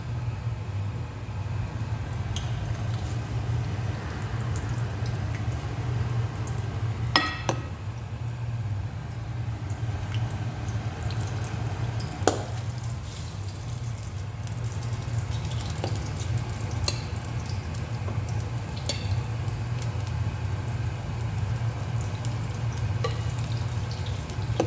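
Nigerian akara bean fritters fry in hot oil with a steady, even sizzle that runs throughout, broken by a few brief clicks and knocks from the pan.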